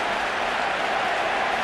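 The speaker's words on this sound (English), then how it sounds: "this crowd's going to give him some kind of ovation" A baseball stadium crowd at a 2004 Red Sox game applauds and cheers in a dense, steady ovation, with no break across the short stretch.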